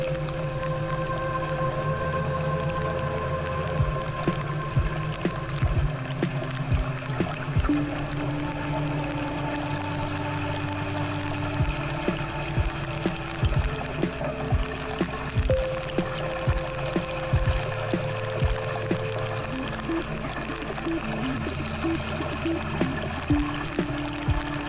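A vehicle pushes slowly through flood water against the current in low gear, with continuous close sloshing and pouring water over a steady engine drone, punctuated by repeated rhythmic splashes.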